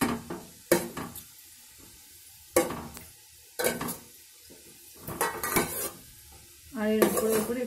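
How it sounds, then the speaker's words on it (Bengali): Chhana chire pitha being turned over while frying in a pan, with a few sharp, separate clatters of utensil against cookware and brief sizzling bursts between quiet pauses, close by. "আমাদের প্রথমবারে দেওয়া পিঠেগুলো একটু উল্টে পাল্টে দিচ্ছি।"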